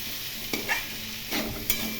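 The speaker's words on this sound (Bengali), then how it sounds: "এখন ভালো করে এগুলো কষিয়ে নেব।" Grated ginger and green chili sauté in a pan for an elephant foot yam curry, a soft steady sizzle broken by a few scraping stirs of a spatula, close and quiet.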